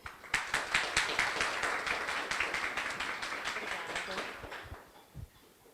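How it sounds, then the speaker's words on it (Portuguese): Audience at a medical clinic management talk applauding, a burst of many hands clapping that starts abruptly, holds steady for about four seconds and then fades, with a couple of faint thumps at the end. "Uma salva de palmas."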